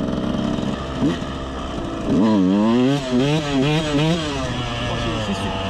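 A KTM 125 SX two-stroke dirt bike engine revs hard and loud close by, with steady harmonic bands that rise and fall through repeated throttle blips after a rougher idle, while a voice talks over it.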